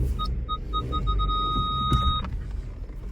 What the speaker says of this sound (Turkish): Park sensörü gördü.